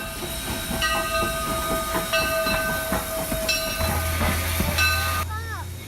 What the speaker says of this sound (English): Here you can see the locomotive approaching from the outside track to get to the front of the train